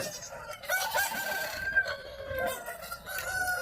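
A rooster crows at moderate distance at a poultry market, its drawn-out call rising above a noisy, busy outdoor background.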